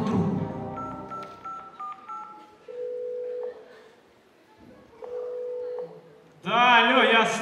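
Telephone dialing tones on a game-show lifeline call to a friend: a run of short keypad beeps and steady tones, then a burst of voices at the end.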